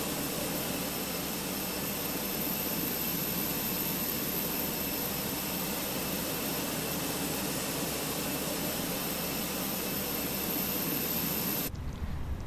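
Airbus A319 jet engines in the Fenix flight simulator produce a steady, loud, even whine and roar with no pauses, cutting off sharply just before the end.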